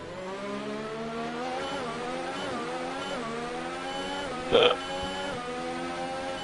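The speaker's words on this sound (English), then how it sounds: "Goddamn hiccups." A single sharp hiccup bursts out once over the steady engine whine of a Formula 1 race car in the F1 2019 video game, where a Williams car is racing at the Belgian Grand Prix.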